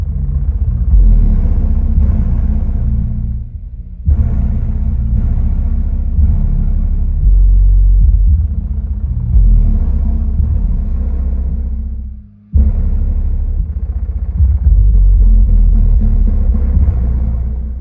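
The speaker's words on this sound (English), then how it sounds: "This amp had great control over the subwoofer in the test" Deep, loud subwoofer bass driven by an MTX Audio Thunder monoblock amp thumps and rumbles continuously, cutting out briefly twice before resuming, with no voices.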